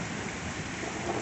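Heavy rain from a summer thunderstorm in northwest England, a steady dense hiss of downpour on surfaces that stays constant and close throughout, with no talking.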